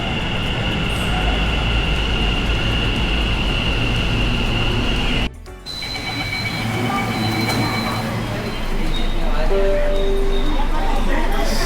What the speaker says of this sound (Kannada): ಸೊ ಇದೆ ನೋಡಿ ಅಹಮದಾಬಾದ್ ಮೆಟ್ರೋ